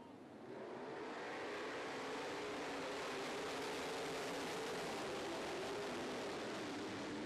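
Race cars roaring wheel to wheel through turns one and two at Carolina Speedway, a dense, steady engine drone filling the air at constant loudness from start to finish with no voices.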